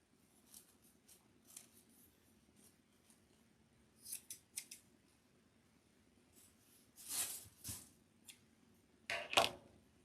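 Scissors snip several times in short pairs and clusters, crisp and close, separated by quiet stretches over a faint low hum.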